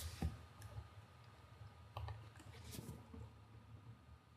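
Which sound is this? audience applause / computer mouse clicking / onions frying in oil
computer mouse clicking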